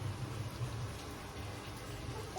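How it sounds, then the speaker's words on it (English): Steady rain falls outdoors, a continuous soft wash of pattering drops at moderate level with no other sounds standing out. "It's raining, guys."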